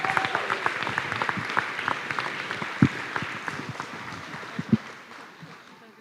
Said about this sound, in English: Give a round of applause for the indoor track team